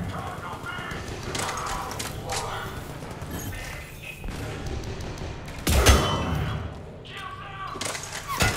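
Rapid gunfire bursts from Mass Effect 3 multiplayer survival combat with a soldier class, dense and continuous, with a sharp loud impact near the six-second mark, under people talking throughout.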